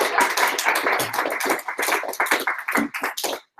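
An audience bursts into applause at the end of a talk on inclusive design, with dense, close clapping that holds steady for a few seconds before breaking off abruptly.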